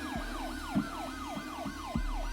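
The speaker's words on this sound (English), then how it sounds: "Sirens are sounding all across the U.S." A wailing tornado warning siren sweeping rapidly up and down in a repeating cycle, loud and close, over a low rumbling background.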